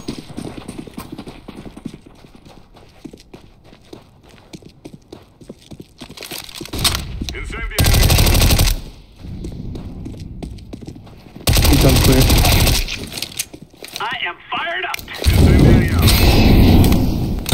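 Gunfire in the video game Counter-Strike on the Dust 2 map: several loud bursts of shots ring out in clusters, with quieter game ambience between them.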